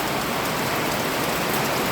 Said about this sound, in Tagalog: Umuulan dito sa Leyte.